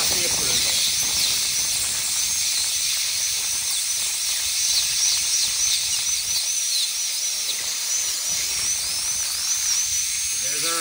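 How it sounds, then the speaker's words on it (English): High-pitched whine of a dental drill fitted with a diamond depth-cutting burr during occlusal reduction for a crown preparation, running steadily and close throughout with a hissy, airy edge. "now we're going to switch over to our diamond depth cutting burr"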